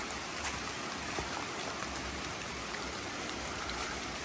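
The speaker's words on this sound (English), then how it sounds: "Already seen several little small cascades." Small cascades on a river tumble along a hiking trail, giving a steady, even rushing and trickling wash that sounds moderately distant, with no voices.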